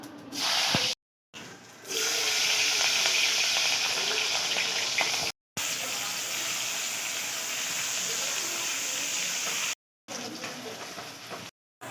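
Onion, tomato, green chillies and garlic frying in a pan, a steady loud hissing sizzle broken by a few brief cuts of silence.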